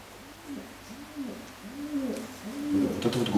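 A pigeon coos in a repeated rising and falling pattern, four or five soft calls in steady rhythm, moderately close over a low background hum that grows busier toward the end.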